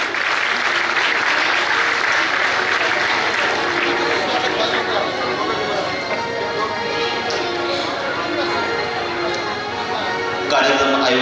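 Dense, sustained clapping from a large audience at a Shri Chakradhar Swami religious festival, steady and loud throughout with a crowd murmur and voices mixed in.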